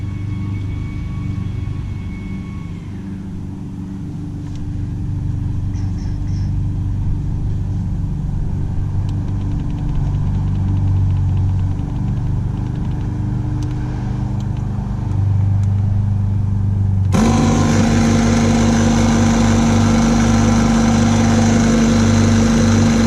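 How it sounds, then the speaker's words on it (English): A small portable air compressor runs steadily at close range, a droning motor hum, and grows louder and rougher near the end as it works to pump up a trailer tire. "nifty little air compressor"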